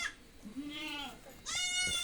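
A goat kid, bought at a village farm, bleats twice: a drawn-out wavering cry, then a second harsher, higher call, close to the listener with no other sound around it.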